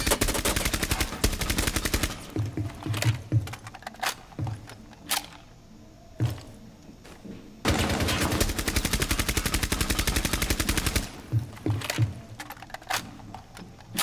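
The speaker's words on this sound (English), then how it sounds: "Blind firing." Automatic gunfire in Rainbow Six Siege, with rapid, sustained bursts of shots fired blind, loud and close, broken by short pauses and a few single cracks between the long strings of fire.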